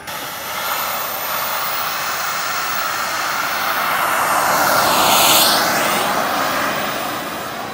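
Small turbojet of a Saab JAS-39 Gripen model jet roars continuously, swelling louder as it passes close by around the middle before easing off, a broad rushing jet noise with a faint whine.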